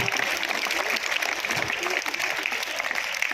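Loud, sustained audience applause fills a foundation day celebration hall, dense steady clapping from a large crowd throughout with no pauses.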